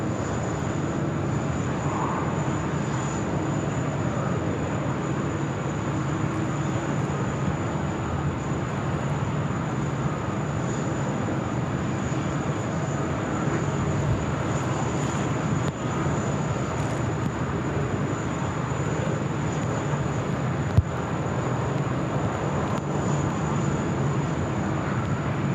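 A Qantas Airbus A321XLR jet arriving at Sydney Airport gives a steady, distant roar that holds at an even level throughout, with a constant high whine above it, light wind noise, and a single sharp click near the end.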